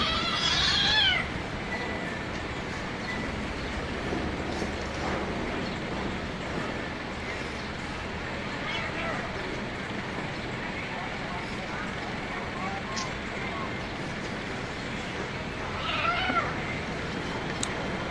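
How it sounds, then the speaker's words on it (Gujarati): A kitten meows twice while fighting a pigeon, a high cry at the start and another near the end, over a steady noisy background. "મીંદડીના બચ્ચા સાથે કબૂતરને થયો ઉગ્ર ઝઘડો"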